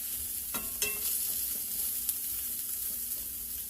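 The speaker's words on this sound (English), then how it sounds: "we're going to saute for just a little bit longer" Food sautés in a pan with garlic among the ingredients, a steady soft sizzle running throughout with a few brief stirring clinks, no voices.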